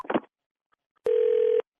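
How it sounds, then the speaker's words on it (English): A telephone line plays a steady single-pitch electronic beep of about half a second while a call is placed, loud and clean after a brief clipped voice fragment and near silence. "I'm gonna have to call her right now"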